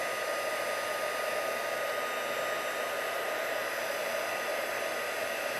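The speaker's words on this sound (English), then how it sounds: "Takes a few minutes for the gun to get hot." Heat gun running steadily while warming up to melt a glaze for a faux tile and grout finish, a constant close whooshing blower roar with no breaks or talk.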